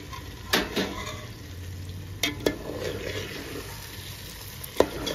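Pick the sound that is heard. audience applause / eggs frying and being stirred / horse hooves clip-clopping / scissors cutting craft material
eggs frying and being stirred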